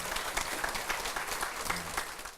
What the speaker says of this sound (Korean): 박수로 말해주세요